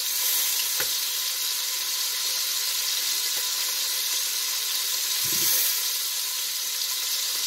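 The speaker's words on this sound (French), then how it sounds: "Pendant que ma viande est en train de bien brunir" Lamb meat browning in a pan for a festive dish gives off a steady, continuous sizzle and hiss that holds evenly throughout, with a couple of faint low bumps and no talking.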